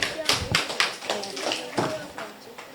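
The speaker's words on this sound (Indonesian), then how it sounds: "Tepuk tangan." A classroom of students claps for a student group, scattered uneven hand claps close by, with some voices mixed in.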